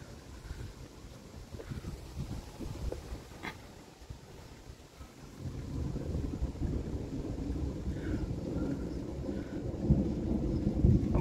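Thunder rolls through a June thunderstorm, a long low rumble that swells and stays heavy through the latter half, with wind buffeting the microphone and rain in the background.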